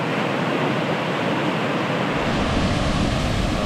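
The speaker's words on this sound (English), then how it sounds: "Look at the force from the water." A powerful waterfall in rural Switzerland, with water rushing steadily and loudly and close by in a constant broadband roar. The low end deepens partway through, and no voices are heard over it.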